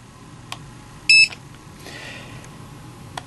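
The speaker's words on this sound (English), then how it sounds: "if your cipher beeps when you scan the RA barcode, the number has been entered" A handheld barcode scanner gives a single short, sharp beep as it reads a return-authorization barcode, set against a quiet room hum with a few faint clicks.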